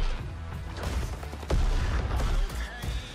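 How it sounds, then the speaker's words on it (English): Explosions and booming gunfire from a Borderlands 3 game trailer, a dense run of loud blasts and crashes over about three seconds, with a heavy impact near the middle. "Yeah, it's a lot of explosions."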